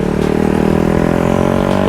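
A loud, close motorbike engine revs and roars steadily for a couple of seconds on a London street, with a slight rise in pitch.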